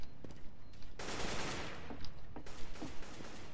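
Gunfire in Counter-Strike: Global Offensive: a rapid burst of automatic fire erupts in the middle, flanked by scattered single shots and short bursts, loud and close with no talking.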